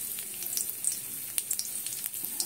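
Garlic, ginger and onion hit a small amount of hot mustard oil in a wok, giving a soft, continuous sizzle with small crackling pops, quiet and close, no talking.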